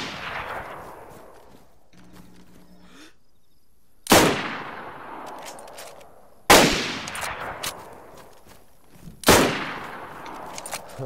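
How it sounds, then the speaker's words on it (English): Gunshots in the DayZ video game, in a prison setting: three loud, sharp reports spaced a few seconds apart, each with a long fading tail, preceded by a quieter earlier shot. "Oh, you see that shot, Whootang?"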